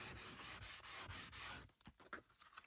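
Sandpaper scuffs the backs of decorative journal panels with quick rhythmic back-and-forth rubbing strokes. The strokes are faint but close, then break into a few scattered scrapes toward the end.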